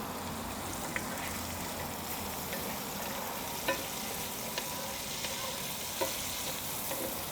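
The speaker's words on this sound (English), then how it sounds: "we're getting some nice browning on the pancetta as well as the shallots" Pancetta and shallots fry in a hot skillet on a grill, a steady close sizzle broken by a few light taps and scrapes of stirring.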